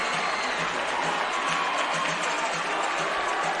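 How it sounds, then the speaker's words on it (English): A girls basketball semi-state championship crowd in a gym roars and applauds continuously during a timeout, a dense, loud, sustained wash of cheering with no clear individual voices. "Just listen to the crowd"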